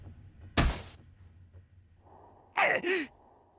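A body slams against a door in the game Chaos;Child, a heavy thud followed by a fading rumble, then a girl's strained gasps or cries a couple of seconds later.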